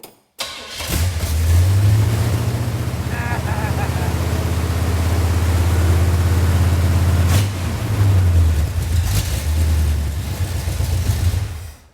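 A hot rod's carburetted engine running loud and close just after starting, a steady rumbling idle with slightly off timing, holding throughout with a brief dip and recovery partway.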